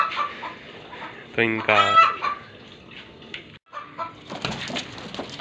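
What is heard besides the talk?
Aseel chickens clucking in a cage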